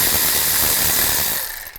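A ratchet with a 10mm socket loosening an ignition coil bolt on a 2010-2017 Chevy Equinox, a loud close buzzing run of rapid clicks that fades out at the end.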